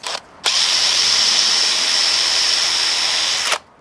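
A power drill bores pilot holes for screws in timber during a barn rebuild: one loud, continuous whine that starts abruptly, holds steady for about three seconds, then cuts off, with a brief burst just before.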